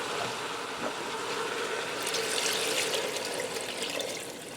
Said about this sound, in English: I'm going to add some water in.